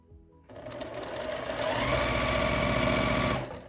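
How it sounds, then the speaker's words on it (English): A sewing machine runs steadily as it stitches quilt block squares, a continuous whirring hum that starts after a brief pause and holds for about three seconds before stopping. "I'm just sewing these squares on here"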